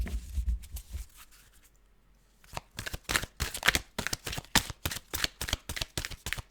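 A deck of cards riffled and bridged, first soft shuffling, then a brief pause, then a rapid run of crisp, evenly spaced flicks up close.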